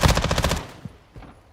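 Rapid automatic gunfire in Call of Duty Modern Warfare II, a loud burst of closely spaced shots for about half a second, followed by a few scattered, quieter game sounds.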